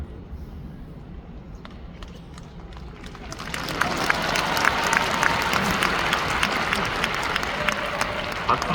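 Arena audience bursts into applause during a motivational talk, with scattered claps growing into dense, loud clapping that carries on steadily to the end.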